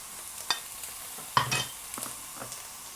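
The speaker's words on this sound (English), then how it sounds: "we put this on the hot griddle. So basically we're firming and crisping up the fat" Duck fat crisping on a hot griddle makes a quiet sizzle broken by a few sharp scraping and clattering strokes. There is no talk.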